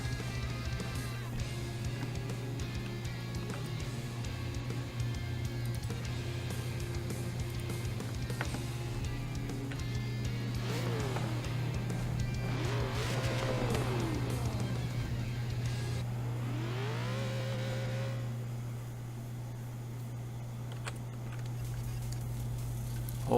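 A Shelby GT500 Mustang driven in Forza Horizon 3, a steady low engine drone that rises and falls through revving and gear changes, fairly quiet with no talk.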